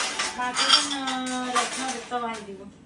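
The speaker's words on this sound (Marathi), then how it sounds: "एवढं जोरात भांडी आपटू" Dishes and cutlery clatter and clink nearby, with someone talking over much of it.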